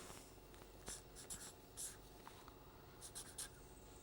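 Chalk or marker writing on a board during a lecture, faint scratchy strokes in short bursts, quiet and close, no talk.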